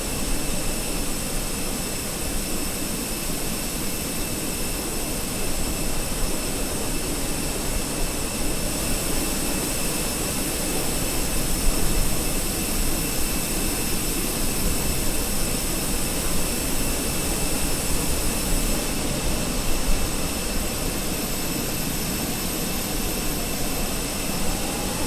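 Steady, loud jet engine roar from Airbus A320 IAE engines in Microsoft Flight Simulator, a constant broadband whine and rumble with high tonal hum, unbroken for the whole stretch with no talk.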